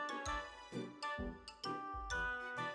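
A school bell rings in a series of bright chiming strikes, about five evenly spaced ringing hits that each decay briefly, heard alone without talk.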